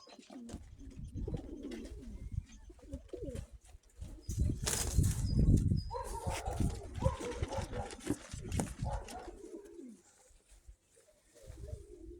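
Hrechani (Krymaky) pigeons cooing in low throaty rolls, with a burst of wing flapping midway and scattered rustling in a loft.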